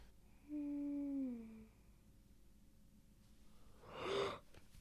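A person yawns: one long, drawn-out voiced yawn that falls in pitch, followed later by a sharp breathy exhale, all fairly close.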